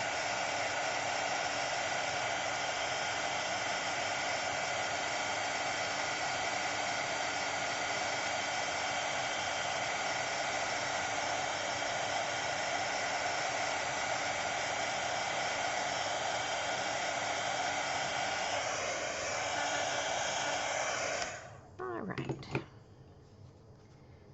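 Heat gun blowing hot air to heat emboss ink on a handmade card, a steady close whooshing hiss held for about twenty seconds before cutting off, followed by brief handling clatter.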